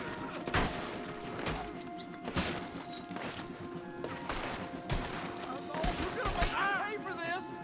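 Gunfire in Red Dead Redemption 2, several loud sharp shots cracking at irregular intervals, some spaced far apart and some close together, with a voice speaking between and over them.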